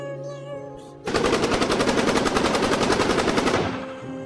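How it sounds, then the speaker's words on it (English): A dense burst of rapid machine-gun fire from robbers shooting lasts about two and a half seconds, loud and close, as a sound effect over a faint musical background with no talking. "they started shooting indiscriminately out of fear"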